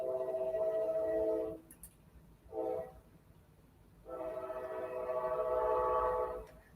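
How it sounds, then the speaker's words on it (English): A passing train sounds its horn in long sustained blasts, a short break and a brief toot, then another extended blast, moderately loud and somewhat distant with steady rumble beneath. "You hear the train?"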